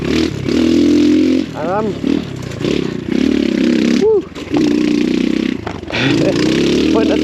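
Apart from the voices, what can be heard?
X Pro Storm 150 DLX dual sport motorcycle on trail ride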